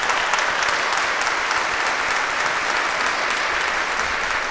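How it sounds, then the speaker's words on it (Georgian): A television talent-show audience breaking into loud, sustained applause, with dense, even clapping filling the hall without pause. "აპლოდისმენტებით გავაცილოთ"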